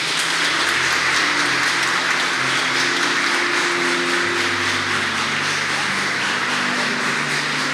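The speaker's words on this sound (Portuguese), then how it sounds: "Você pode aplaudir ao Senhor?" A church congregation applauds during a Christmas cantata service, a dense, steady wash of clapping throughout with low sustained musical tones beneath it.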